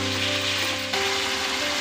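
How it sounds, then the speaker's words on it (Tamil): Chicken pieces cooking in a pan for a Pakistani dhaba-style chicken curry give a steady, close sizzle with a constant hiss and a faint hum underneath, loud and unbroken. "அடுத்து இது கூட நம்ம எடுத்து வச்சிருக்கிற சிக்கனை சேர்த்திட்டு நல்லா ஒரு 10 நிமிஷம் நல்லா இதை குக் பண்ணிக்கோங்க"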